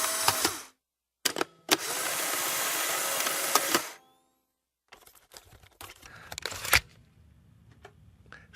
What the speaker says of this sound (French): C'est le son d'un appareil photo qui est aujourd'hui presque disparu.